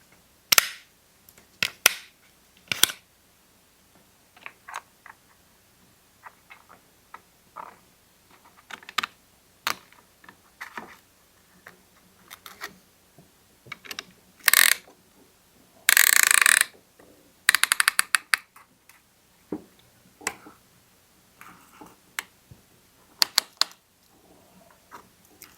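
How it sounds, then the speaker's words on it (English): A piston ring compressor being fitted onto a Honda side-by-side engine piston, giving sharp irregular ratcheting clicks with a few longer rattling bursts, close and alone. "Let's get the ring compressor put back on."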